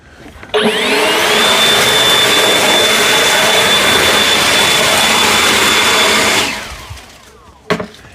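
An EGO Power+ LB7650 cordless leaf blower fitted with a tapered nozzle starts up and roars at a steady, loud whine for about six seconds, then spins down, followed by a brief knock.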